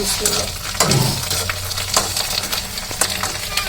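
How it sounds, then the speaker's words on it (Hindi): Papad frying in hot oil in a home kitchen, a loud continuous sizzle with bubbling crackle and occasional stirring scrapes, close up and steady throughout, no talk. "पापड़ भी यहाँ पे सारे ही आज फ्राई होंगे"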